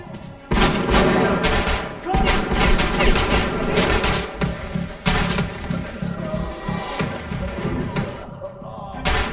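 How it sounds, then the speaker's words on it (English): Heavy gunfire from a firefight in the video game Metro Last Light, with shotguns in use: dense, loud volleys of overlapping blasts and booms rolling almost continuously, with brief gaps between bursts. "I really like these shotguns."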